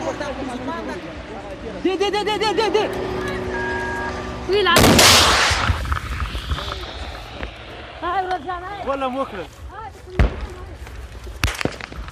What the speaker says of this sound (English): the police shoot back as they continue driving north